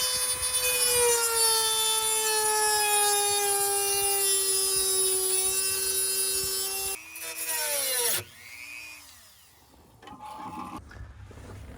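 Rotary tool with small cutting wheels slicing a radio opening in a Bronco under restoration, a loud sustained high-pitched whine for several seconds, then changing pitch, breaking off and restarting in shorter bursts.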